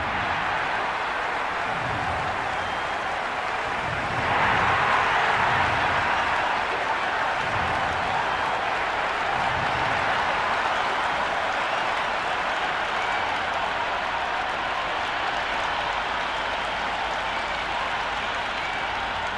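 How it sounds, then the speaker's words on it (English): A large cricket stadium crowd roars and applauds steadily at a distance before the first ball, a dense wash of noise that swells slightly early on and holds. "The crowd are making a heck of a lot of noise even before the first ball."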